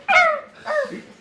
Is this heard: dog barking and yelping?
yes